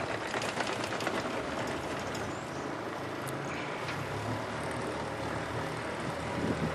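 Outboard motor on a pontoon boat idling just after starting, a steady, unbroken engine drone with a rough buzzing texture throughout, close and moderately loud.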